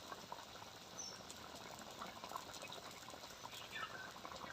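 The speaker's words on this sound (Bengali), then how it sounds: "এই যে ফুটছে" A thin katla fish curry bubbles in a pot on the stove, a soft continuous boiling patter with faint pops, close and alone without talk.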